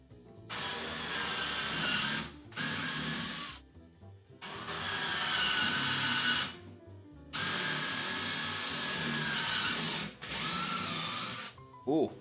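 A cordless drill drives screws into cedar boards for a raised garden bed, in four close whirring bursts separated by short pauses, each burst ending as the screw seats.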